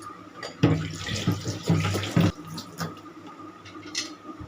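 A new glass storage jar is scrubbed and rinsed under a running kitchen tap, with water splashing and gurgling in close, uneven bursts before easing to a quieter trickle.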